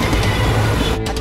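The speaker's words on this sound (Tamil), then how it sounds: "ட்ரெயின் வரது தெரியுது சார், அதனால வாங்க சார்." Loud rumbling of a driverless train approaching, with a rhythmic rattle, heard briefly and close.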